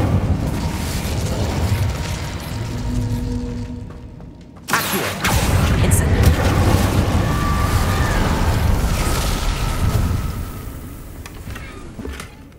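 Incendio fire spell cast in Hogwarts Legacy: a loud, sudden whooshing burst of flame erupts and then roars on steadily, following a quieter, rumbling mechanical hum.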